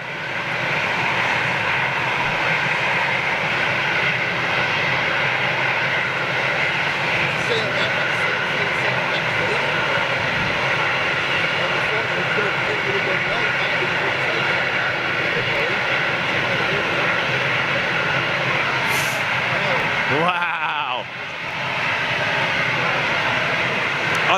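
Jet engines of an Airbus A220 airliner give a steady, loud, broadband roar that holds throughout, with a brief dip and shift near the end.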